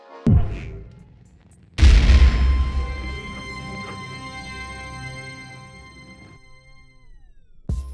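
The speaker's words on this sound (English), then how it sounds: "so now you have to destroy the spaceship, and that will result in a small sequence showing the exploding ship" A spaceship explodes in the Skyrift video game: a brief thump, then after a short gap a loud, deep blast that rumbles and slowly fades over several seconds, ending in a final low hit.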